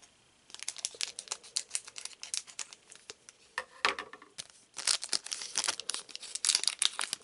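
A trading card booster pack is torn open up close, with bursts of crisp foil crinkling and ripping, a brief pause, then more rapid crackling as the wrapper is pulled apart.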